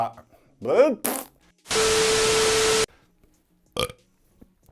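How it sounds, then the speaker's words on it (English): A man lets out a loud, drawn-out burp, with a few shorter belching and throat sounds around it, close to the mic against an otherwise quiet background. "Oh, I burp so much."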